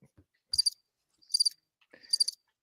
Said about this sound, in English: I hear them crickets too.